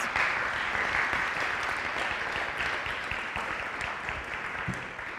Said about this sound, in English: One more time, let's give them a round of applause.